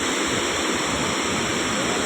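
Water pours over a village dam spillway in a steady, dense rush of broadband noise, close and unchanging throughout.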